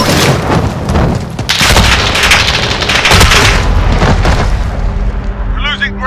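Heavy gunfire and booming blasts in a Call of Duty Modern Warfare 2019 two-versus-two Gunfight match ring out loud and nearly nonstop, with voices heard amid the shooting.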